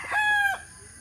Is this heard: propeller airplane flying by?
no